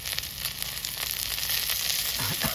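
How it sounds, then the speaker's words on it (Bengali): Garlic paste hits hot oil with onions, giving a loud, continuous crackling sizzle that holds steady throughout with no voices. "পেঁয়াজের সঙ্গে রসুনটাকে ভেজে দেবো"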